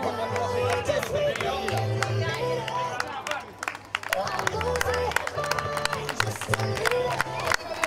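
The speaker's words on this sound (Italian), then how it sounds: "L'applauso spontaneo del pubblico" Spontaneous applause and scattered cheering rise from an outdoor crowd at a youth cycling race for very young riders in Todi, with busy clapping and crowd noise throughout, layered under music and talk.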